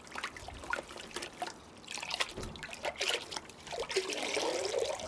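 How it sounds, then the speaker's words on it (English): Water trickling and splashing as soil is rinsed from the roots of a Fuji cherry bonsai, an uneven close dribble with drips and a steadier pour toward the end. "I'm going to give these roots a nice wash, and that will remove any of the extra soil around this root ball."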